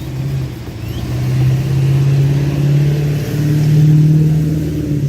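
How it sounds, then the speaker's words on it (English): Diesel vehicle revving as it drives past, a loud deep engine drone that swells and holds with shifting pitch, near and steady over several seconds, with no one talking. "And there goes the diesel."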